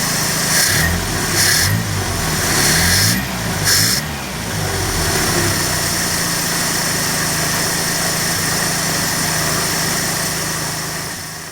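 A 1979 Triumph Spitfire 1500 engine with a Zenith Stromberg 150CD4T carburetor, warmed up and running, rising and falling through a few revs early on before settling into a steady close idle.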